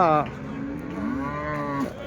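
A cow at a Sunday cattle market in Chintamani gives a single long, close moo that rises and falls over background market murmur.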